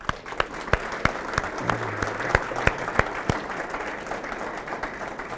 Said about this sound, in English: So I will applaud them.